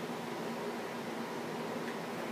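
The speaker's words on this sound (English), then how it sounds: "I'm going to turn off the air conditioner so you can hear me" An air conditioner runs steadily indoors, giving a constant broadband hiss with a faint low hum that stays even and unbroken throughout, with no voices.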